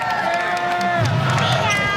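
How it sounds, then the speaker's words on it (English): Crowd cheering and shouting from a volleyball cheering section at the Stan Sheriff Center during a Hawaii Rainbow Wahine match, a steady loud roar of voices with whistle-like tones and a swell of noise partway through. "there is the Calais Mao cheering section here at the Stan Sheriff Center"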